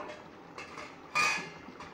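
Metal cooking pot of Bengali mutton curry clinks and scrapes as garam masala paste goes in, a short bright clatter of utensil on metal rising above a low kitchen background.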